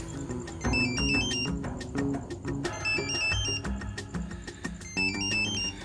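A mobile phone ringtone plays as an incoming call arrives, a bright repeating electronic melody with a beat underneath, alone and fairly loud throughout.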